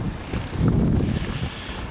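Strong wind gusts buffet the microphone outdoors near woodland, a steady roaring rush that swells loudly mid-clip and stays continuous throughout, with no talking.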